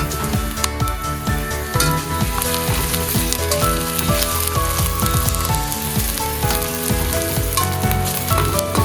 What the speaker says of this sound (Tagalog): Nagigisa na tayo ng ating mga aromatics